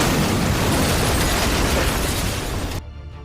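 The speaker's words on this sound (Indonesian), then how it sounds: "tiba-tiba terjadilah sebuah ledakan dahsyat" A massive explosion in a Korean drama scene, a loud, continuous roaring blast filling the full range for about three seconds before cutting to a quieter rumbling tail.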